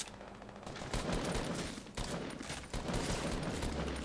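Gunfire in Fortnite during a team rumble match, rapid bursts of shots and a fusillade that come in loud close volleys with brief breaks between them.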